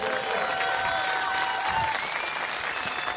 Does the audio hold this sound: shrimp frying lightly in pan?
no